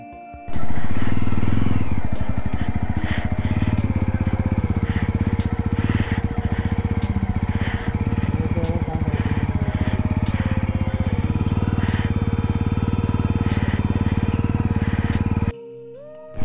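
A Jawa 42 2.1 motorcycle is ridden on the mountain road to Sach Pass, its engine droning loud and steady up close for about fifteen seconds with wind buffeting, then cutting off abruptly.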